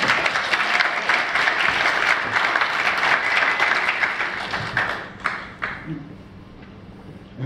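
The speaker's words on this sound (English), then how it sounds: "Let's give them a round of applause." Sustained, dense applause from an audience for the Magnolia Singers, a spirituals group in Charleston, filling about five seconds before thinning into a few scattered claps and quieter murmurs.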